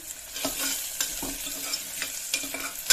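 Curry leaves and green chillies frying in hot oil in a pan, a bright steady sizzle with a few scraping stirs, close and alone.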